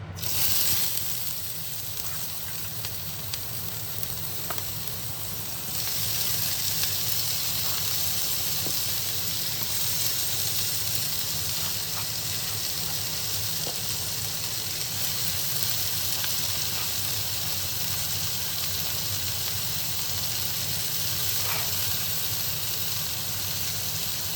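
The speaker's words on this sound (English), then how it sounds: "I'm gonna go ahead and add in my peppers and my onions." Peppers and onions sizzle steadily in olive oil in a pan, a continuous close hiss that grows slightly louder after a few seconds and then holds even.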